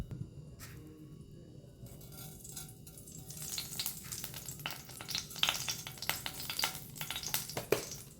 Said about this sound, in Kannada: ಕೊಕೊನೆಟ್ ಆಯಿಲ್ ಸ್ವಲ್ಪ ಬೆಚ್ಚ ಆದಮೇಲೆ ನಾವು ಇದಕ್ಕೆ ಮಸ್ಟರ್ಡ್ ಸೀಡ್ಸ್ ಹಾಕಲಿಕ್ಕಿದೆ.